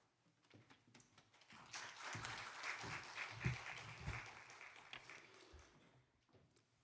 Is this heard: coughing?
no